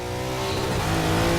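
Race cars in the Forza Motorsport 6 video game duel closely, with continuous engine roar and revving plus brief tire squeal, loud and steady throughout.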